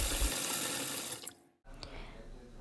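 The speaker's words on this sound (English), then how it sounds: "place it in a bowl, and fill it up with water" Tap water runs into a bowl holding oxtail in a kitchen sink, a steady rushing stream that stops briefly and then continues.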